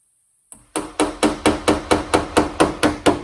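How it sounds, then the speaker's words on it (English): A hammer taps down a high spot on a ground-down metal panel in about eleven light, evenly spaced strikes, close and sharp with a short ringing decay after each. "So what I want to do is take my hammer."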